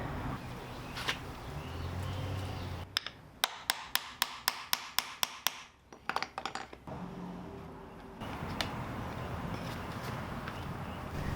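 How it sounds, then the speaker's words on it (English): Hammering sets a grommet into a plastic wrap around a trash can bin, a quick series of about a dozen sharp, evenly spaced metal taps close by, followed by a few looser knocks. "and now I'm going to put a grommet in it."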